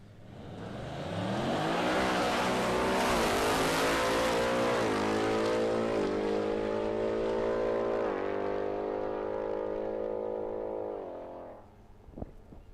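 A supercharged 5-litre Mustang makes a drag racing pass, its engine roaring loud and close as it climbs through rising harmonic revs and shifts, holding full power for about ten seconds before cutting off, with a sharp click right after.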